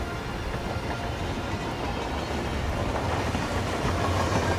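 In the video game Hitman Freelancer, a train rumbles past close by with a steady, loud, noisy roar and faint rail clatter, and no voices.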